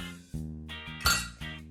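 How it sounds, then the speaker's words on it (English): Quarter cup of ice added to a green smoothie in a blender, a few close bright clinks and clatters as the cubes drop in, with no talking. "and a 1/4 cup of ice"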